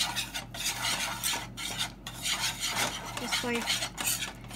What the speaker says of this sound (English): 2 tablespoons of butter, 2 tablespoons of flour, and you're gonna mix this.